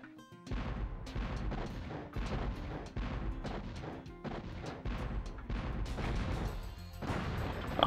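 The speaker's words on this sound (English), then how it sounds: "I've found these cannons to be a bit wonky sometimes, but in this level they seem to work well enough." Cannons firing in the Spyro 2 video game, with a run of loud booming blasts repeating in quick succession over a busy game soundtrack, with no talking.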